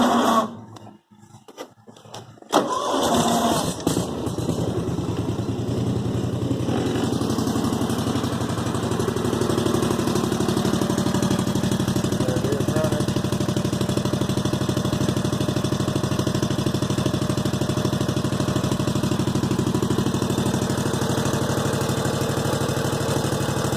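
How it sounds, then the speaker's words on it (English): An Encore Z52 zero-turn mower engine starts after a few seconds of fumbling, then settles into a steady, loud, close idle that drones on evenly for the rest of the clip. "I'll start it up for you. You can hear it run."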